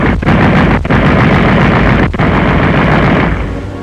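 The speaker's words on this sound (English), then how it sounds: "The machine gun is the warbird's friend, his weapon both of attack and defense." Aircraft machine gun firing in a 1940 wartime training film: a loud, dense, continuous burst of rapid shots that runs almost unbroken for several seconds, with a couple of brief dips, before easing slightly at the end.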